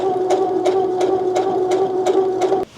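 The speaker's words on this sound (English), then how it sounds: "Just doing a straight stitch from the top all the way down to the bottom on both sides." A sewing machine runs a straight stitch through a thrifted bedsheet being sewn into a blouse, a steady loud motor hum with a regular rhythmic needle clack, stopping abruptly near the end, no talk.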